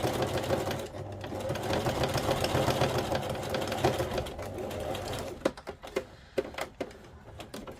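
A sewing machine runs a large zigzag stitch across fabric with lace trim, first as a steady, dense mechanical whirring, then as a series of separate, sharper clacking stitches, with no talking.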